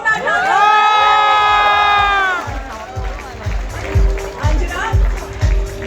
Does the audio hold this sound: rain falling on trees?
no